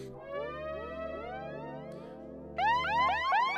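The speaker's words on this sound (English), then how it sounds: "So our siren right here" An electronic siren effect from a DJ controller sweeps up and down in repeated wailing glides, then jumps louder and higher partway through.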